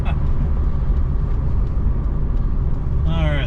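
A 2001–2005 Honda Civic fitted with an aftermarket coilover kit drives on a road around a corner, a steady loud engine and road rumble throughout, with a person talking over it.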